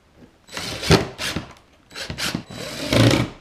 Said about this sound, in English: Pre-thread some of these screws.